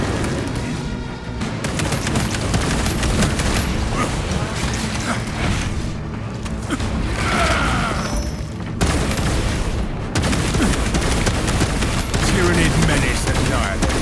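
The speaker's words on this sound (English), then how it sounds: "Throwing frag grenade." A frag grenade in Space Marine 2 is thrown and blasts amid constant loud gunfire, with booming explosions and rapid shots layered over a dense, chaotic battle din throughout.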